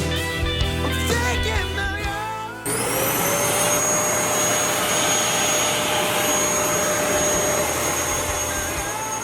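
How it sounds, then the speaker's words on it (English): A household vacuum cleaner used while cleaning a bedroom switches on partway through, its loud steady whine and motor roar running on unbroken to the end after a quieter stretch of other sound. "The majority of my morning, I vacuumed a bunch, like the area here."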